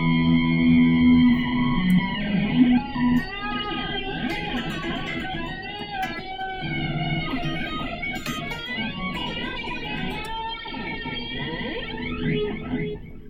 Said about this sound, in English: Some of the flangering things sounds kind of cool.